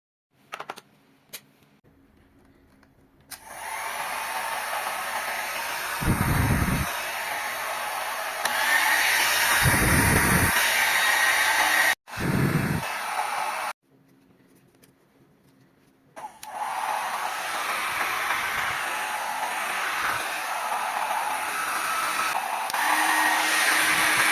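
A Remington D1500 foldable hair dryer switches on and runs with a steady loud blowing whir, cut by a few brief stops and restarts before settling into a continuous drone.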